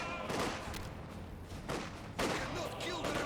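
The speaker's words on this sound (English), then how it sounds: "good landmine detonation there" A landmine detonates in Company of Heroes amid battle noise: several sharp, booming blasts over a steady din of gunfire, with the loudest burst near the end.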